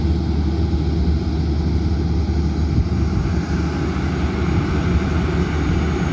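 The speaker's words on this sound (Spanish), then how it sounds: "ya se escucha un ruido de motores" Power plant generator engines on Martín García island run as a loud, steady mechanical drone with a deep low hum, continuous and unbroken throughout.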